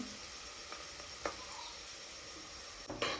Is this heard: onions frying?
yes